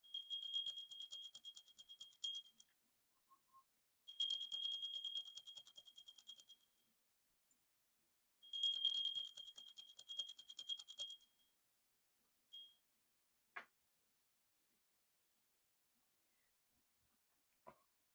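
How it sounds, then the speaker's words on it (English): A pewter bell rings out in three sustained bursts of a couple of seconds each, bright shimmering tones with long decaying tails, followed by a few short isolated strikes as it is set down, in an otherwise quiet room. "Today we'll use a pewter bell."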